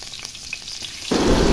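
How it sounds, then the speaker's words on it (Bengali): Chopped onion drops into hot oil in a pan for bottle gourd greens, and after a quiet start a loud, close, steady sizzle bursts out and keeps going. "লাউ শাক রান্নার জন্য প্রথমে তেলের মধ্যে আমি পেঁয়াজটা দিয়ে দিলাম"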